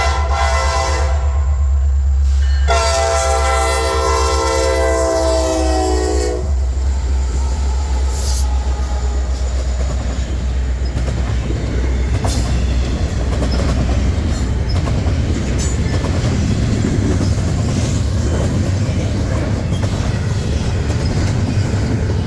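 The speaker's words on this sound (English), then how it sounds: "it was an all EMD show for this one, so that high whining sound and the ground were shaking" EMD SD60 diesel locomotives pulling a train on the D&H, a long horn blast first, then a loud, close rumbling engine with a high whine and steady rolling clatter of passing cars.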